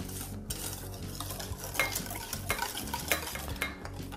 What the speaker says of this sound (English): when you're stirring something in a metal bowl